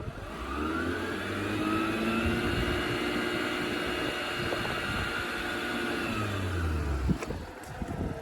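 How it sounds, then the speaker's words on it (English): A 2009 Mazda RX-8 R3 rotary engine running at raised revs, holding a steady droning roar that rises and falls slightly, close by with no talking. "Just give the engine a bit of a rev."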